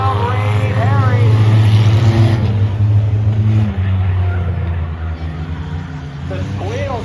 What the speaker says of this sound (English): The squeals of the V6 machine to the corner.